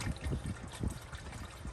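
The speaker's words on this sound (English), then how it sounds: "I'll add about half a gallon of water." Water is poured into the radiator of a Cummins engine during a coolant change, making a faint, steady trickle and splash that runs unbroken for a couple of seconds, with no talking.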